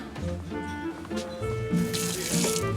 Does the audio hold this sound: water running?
yes